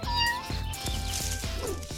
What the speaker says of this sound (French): Faut récupérer ce chaton. Miaou!